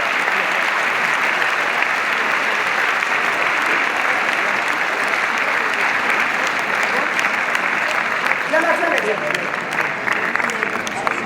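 A large audience at an Alzheimer charity gala at the Olympia in Paris applauds Jean-Charles de Castelbajac, dense sustained clapping filling the hall, loud and continuous, with a voice briefly rising near the end.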